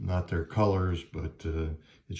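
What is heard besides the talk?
None of the usual background noises is heard.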